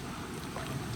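Heavy rain falls in a strong wind as a dense, unbroken roar of broadband noise pressing close against the microphone, steady throughout with no voices.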